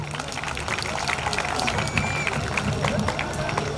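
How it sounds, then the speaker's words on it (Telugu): Audience applause at a live stage programme, a steady dense patter of many hands clapping throughout with crowd noise mixed in. "చప్పట్లు"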